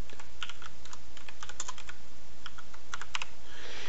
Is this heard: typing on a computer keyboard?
yes